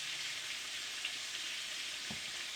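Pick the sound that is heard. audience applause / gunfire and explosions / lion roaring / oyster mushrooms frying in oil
oyster mushrooms frying in oil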